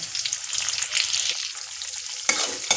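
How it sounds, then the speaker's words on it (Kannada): Onion, curry leaves and coriander crackling and sizzling hard in hot oil, a bright, close spitting hiss with two sharp pops near the end. "ಚೆನ್ನಾಗಿ ಫ್ರೈ ಮಾಡ್ಕೋಬೇಕು. ನೋಡಿ ಗೈಸ್, ಚೆನ್ನಾಗಿ ಅಪ್ ಆ್ಯಂಡ್ ಡೌನ್ ಮಾಡಬೇಕು. ಚಟಾಪಟ ಅನ್ಬೇಕು."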